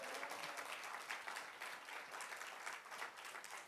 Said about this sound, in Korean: 주님께 찬양의 박수를